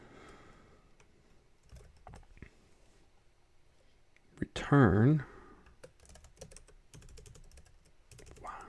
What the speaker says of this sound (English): Get the typing down here.